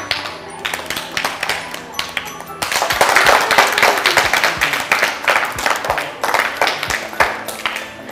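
A group of children claps during a poem contest, scattered claps swelling into a fuller burst of applause, with voices talking over parts of it.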